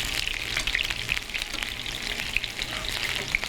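Chicken pieces fry in hot oil with a dense, even bubbling crackle, nearby and steady, punctuated by a few brighter pops and no talking.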